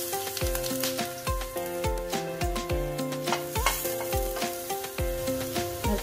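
Spices sizzle in a little oil in a pan while preparing Sri Lankan egg string hopper kottu, a steady hiss running under prominent background music with no talking.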